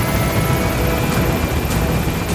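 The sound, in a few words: extraction helicopter arriving in a video game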